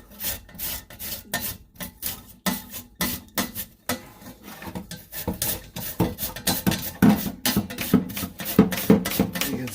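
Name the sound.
grating potatoes for hash browns on an old-fashioned hand grater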